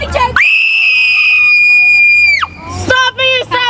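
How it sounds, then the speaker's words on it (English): A person lets out one loud, sustained, high-pitched scream lasting about two seconds, followed by shorter shrieks and laughing voices nearby. "I could scream louder than that."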